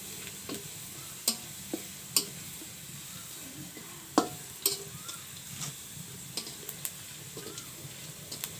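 Cardamom pods and cinnamon fry in a pan with browning onions, a soft sizzle under scattered sharp clicks and taps as the spices pop or a spoon hits the pan, with no voices.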